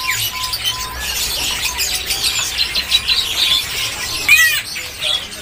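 Bangkok zebra doves (perkutut) and other caged birds at a bird market, with busy chirps, tweets and flutters spread across the stretch, a sharp call near the end, over steady background hum.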